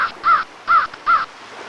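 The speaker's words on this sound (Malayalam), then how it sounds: "എവിടെയെങ്കിലും ഒരു കര കാണുമെന്നറിയാൻ അദ്ദേഹം ഒരു കാക്കയെ പറഞ്ഞയച്ചു." A crow caws three times in an even rhythm, loud and close, each call harsh and slightly drawn out, with no other sound.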